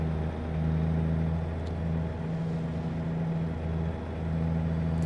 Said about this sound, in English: Wow, this truck does sound good